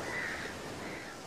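A seagull cries out in a single harsh, raspy call over a reef passage, with no talk around it.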